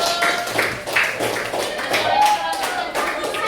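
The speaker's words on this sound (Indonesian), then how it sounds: "beri tepuk tangan untuk kelompok 1" A classroom group claps for a student discussion group, a scattered run of hand claps spread steadily across the moment, close and moderately loud, with voices murmuring underneath.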